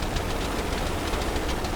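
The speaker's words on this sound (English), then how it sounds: "Oh, I definitely hear the engines being on." Ship engines run aboard a sunken amphibious carrier in the game Stormworks, a loud, steady, knocking rumble with no break.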